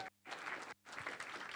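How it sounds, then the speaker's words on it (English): Applause from the audience at the third Doha Creatives evening gathering, steady clapping with two short sudden breaks where the sound cuts out. "Give yourselves a big round of applause"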